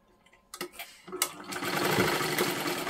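A sewing machine stitches a katori blouse, starting with a few short bursts before settling into a steady, close whirring run that builds and holds to the end.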